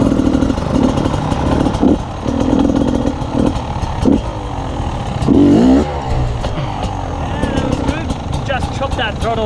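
A motorcycle engine revs and roars through a jump, the throttle rising and dropping in uneven bursts at moderate distance, with people talking over it.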